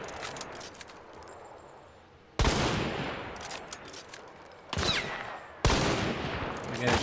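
Video game gunfire: a faint, scattered crackle of shots gives way to several loud, sharp bursts of rapid fire, each ringing off briefly before the next, with no voices.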